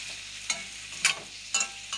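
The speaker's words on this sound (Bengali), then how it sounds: "এই যে এখন ভালোভাবে একটু কষিয়ে নিয়ে একটু ঢাকা দিয়ে দেব।" Papaya and potato with salt and spices being stir-fried in a pan, a low sizzle broken by four distinct scraping strokes of the spatula spaced about half a second apart, close and without speech.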